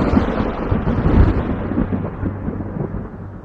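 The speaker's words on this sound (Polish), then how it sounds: "Dochodzący z oddali piorun tylko utwierdził go w tym przekonaniu." Distant thunder rolls low and muffled for several seconds, a deep rumble that swells early and slowly fades away.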